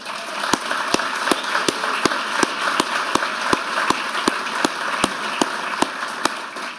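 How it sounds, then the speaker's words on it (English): An audience at a library talk claps for the Friends of the Hennepin County Library, a sustained wash of applause punctuated by sharp, evenly spaced claps in a steady rhythm. "please join me in giving a well round of applause for the Friends of the Hennepin County Library"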